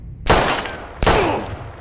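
Two sharp gunshots from the Life is Strange game ring out about a second apart. Each is loud and close and leaves a short decaying tail.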